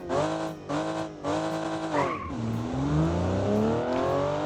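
A BMW Z3 fitted with a supercharged V12 on a Nordschleife lap sounds loud and near, its engine revving up in rising sweeps with brief gear-change dips. Tires squeal through a corner as the revs climb again.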